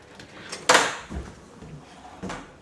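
Wooden drawer in a custom folding van bed build being pulled open, a sharp sliding scrape followed by a softer knock and a second thud near the end, close up.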